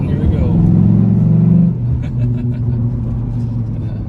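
A 2005 Dodge Ram SRT-10 Viper truck, Commemorative Edition, accelerates hard in first gear with a loud, deep engine roar that swells and then drops as it shifts, with someone talking over it.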